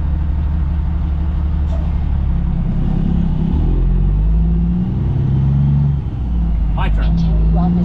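Cars and other vehicles in a long parade roll past in a steady, loud rumble with engine drone, heard from inside a truck cab, with someone speaking over it.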